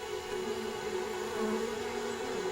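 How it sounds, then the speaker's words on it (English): Orchid bees buzz close by with a steady, droning hum that wavers slightly in pitch, continuous throughout with no talking. "These are orchid bees, shiny, sturdy, and tireless"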